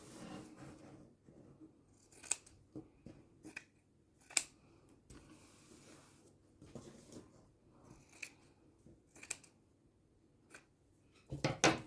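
Scissors roughly trim the cardboard corners of a fabric-covered junk journal cover, giving a series of quiet, close, crisp snips spaced irregularly, with faint handling rustle between cuts and no talk.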